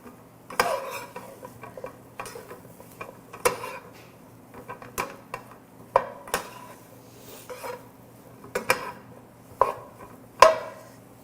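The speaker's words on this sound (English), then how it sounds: "We are going to coat each piece, or at least try to coat each piece of the eggplant in this curry powder." Eggplant pieces being tossed and coated in curry powder in a bowl, with a string of sharp clinks and scrapes at irregular intervals over a quiet background, no talking.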